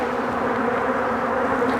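Honeybees hum steadily around an agitated hive during requeening, a dense continuous buzzing drone heard up close with no talking.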